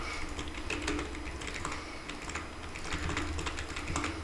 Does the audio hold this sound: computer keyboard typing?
yes